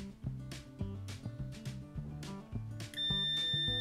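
A steady electronic multimeter continuity beep starts near the end, following a series of clicks and musical-sounding tones, close and clear, while probing pins of a laptop charging IC.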